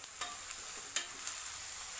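Spice masala with turmeric sizzles in hot oil for kanda poha, a continuous frying hiss marked by several quick spatula scrapes and taps in an uneven rhythm; no one speaks.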